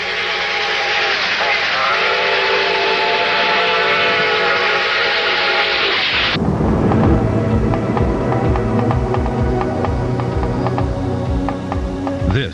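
A Canadian Pacific steam locomotive sounds its whistle, a long loud sustained blast. It then gives way to chuffing and rhythmic mechanical clatter from the engine.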